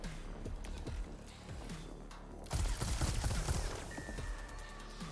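Gunfire in the video game Warhammer 40,000: Mechanicus, a dense burst of shots that swells loudly in the middle, layered over a constant game soundscape with no talking.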